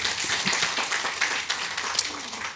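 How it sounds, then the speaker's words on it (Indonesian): Worshippers at a church service clap for God, a looser, uneven burst of applause with individual hand claps standing out over a softer bed of clapping, moderately loud and without talk. "Berikan tepuk tangan kita untuk Tuhan kita."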